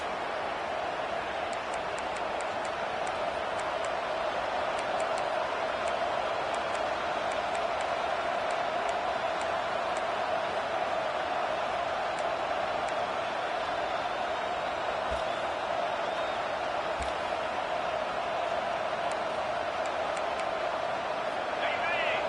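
A dense, steady roar of a large stadium football crowd fills the whole stretch, loud and continuous with a constant broad wash of voices and no single talker standing out.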